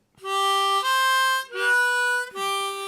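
A short harmonica phrase of four sustained reedy notes, 3 blow to 3 draw and back, stepping up and back down with a slight wavering on the third, played alone and close.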